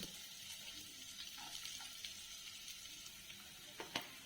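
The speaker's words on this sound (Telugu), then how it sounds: "ఇప్పుడు సన్నగా తరుక్కున్న ఉల్లిపాయ ముక్కలు వేస్తున్నాను" Finely chopped onions frying in butter give a soft, continuous sizzle, faint and steady, with a few light crackles and pops toward the end.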